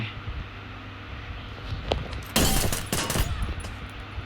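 Gunfire in a battle royale video game, bursting out as a dense, loud volley of rapid automatic shots midway through a steady background hum, with no talk over it.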